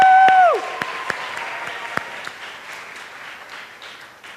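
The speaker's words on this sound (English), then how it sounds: "A round of applause." Audience applause for an award recipient from Naparima College at a university math fair ceremony, a steady wash of clapping with sharp individual claps, following a brief sustained tone at the start and fading slightly toward the end.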